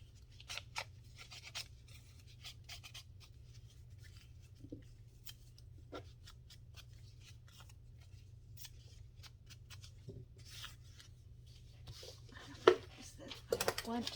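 Scissors snip and rasp through the edges of paper pages for a handmade altered book, a quiet run of short scattered cuts and rustles close by, with one sharper clack near the end.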